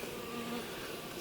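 Honey bees buzz at a backyard hive in winter, a faint continuous hum with no break.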